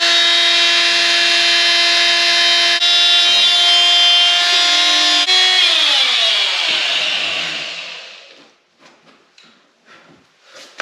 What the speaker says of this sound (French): Couper là avec un outil comme ceci pour faire le plus gros.